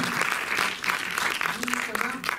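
An audience applauding in a cinema at the Méliès in Montreuil after a film screening, with dense steady clapping throughout and a voice speaking over it.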